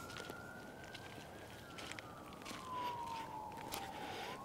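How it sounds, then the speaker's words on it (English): Faint, distant sirens from a fire truck and an ambulance on a desert trail near Palm Springs: a thin steady wail that slowly sweeps up and down, far off under outdoor ambience with no talking. "you can hear the fire truck and the ambulance down there"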